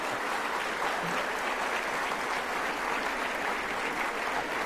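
An audience at an educational institution's felicitation event claps together in sustained, dense applause, steady and fairly loud for the whole stretch.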